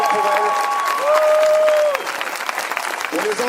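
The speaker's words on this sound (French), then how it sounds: "Vous pouvez les applaudir très fort parce qu'ils méritent plus que ça" Loud applause from a crowd at an LGBT demonstration in France, sustained clapping heard alongside a speaker's voice talking over it.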